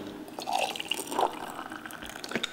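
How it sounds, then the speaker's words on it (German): Soup is poured into glass jars, with soft liquid splashes and gurgles in a few brief bursts, close but fairly quiet against a faint background. "Und in Gläser gefüllt."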